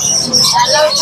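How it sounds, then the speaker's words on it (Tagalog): Small birds chirp and tweet in quick bursts at close range in a pet market, mixed with a low murmur of background voices. "Ito na yung mga ibon din dito."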